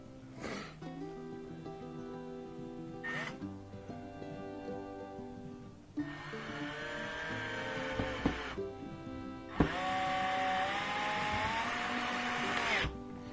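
Screws being driven into the wooden parts of a chicken coop kit with a power driver, several bursts of whirring motor sound separated by pauses, close and fairly loud.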